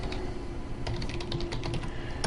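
Quick typing on a computer keyboard, with rapid irregular clicks of keys close by over a faint steady background hum and no talking.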